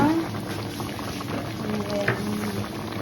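Vegetables with shrimp simmer in a pot in a steady, close bubbling boil that carries on evenly throughout, with a faint voice underneath.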